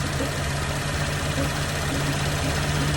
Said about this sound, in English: I got the screwdriver on there, and I don't know if I can feel the vibrations coming from it, but the fan is bad.